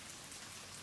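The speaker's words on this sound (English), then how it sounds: "As his voice fades into the gentle rain" Gentle rain falls as a soft, steady patter, faint and continuous through a brief moment with no voices.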